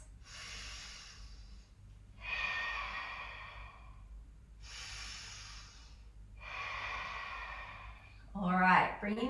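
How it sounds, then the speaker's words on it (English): Deep breathing during a yoga practice: four long, slow, audible breaths alternating inhale and exhale at close range, followed by the start of a voice. "2 more breaths"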